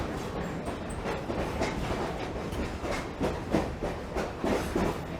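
Steady rumble and clickety-clack of a Lehigh Gorge scenic railway train heard from inside an open-air car, loud and continuous, with wind noise and rhythmic wheel beats throughout.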